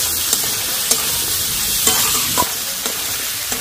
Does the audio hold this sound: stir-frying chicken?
yes